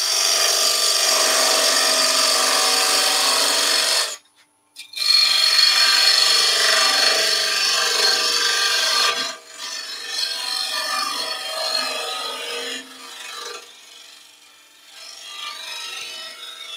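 A parting tool scrapes against a wooden pumpkin box spinning on a lathe, a loud, continuous rasping cut that pauses briefly twice and resumes, softening toward the end.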